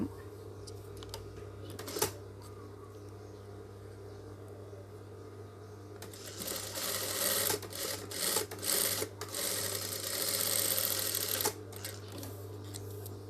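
A sewing machine stitches a cloth face mask. A few isolated clicks come first, then a dense, close mechanical whirring runs for several seconds and stops, all over a low steady hum.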